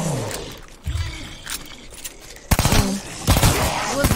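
Video game gunfire in Call of Duty Vanguard, bursts of rapid automatic shots with sharp cracks, loud and close, fairly continuous in the second half after sparser shots earlier.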